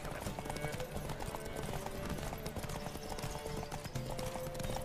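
Galloping horse hooves in a video game ride, a steady rapid clip-clop rhythm running continuously at moderate level with a faint whinny and background wind-like noise.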